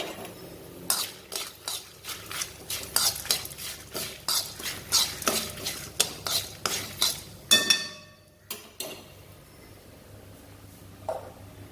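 A spoon scrapes and clinks against a pan as tamarind is stirred into a ridge gourd chutney mixture, giving a run of sharp, irregular strokes with a faint sizzle underneath, close by. The stirring stops abruptly near the end.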